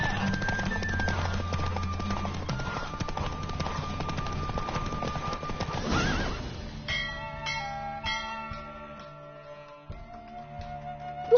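During a horse race in The Witcher 3, rapid galloping hoofbeats run under the game's sustained music, which then shifts to ringing, bell-like tones as the gallop fades.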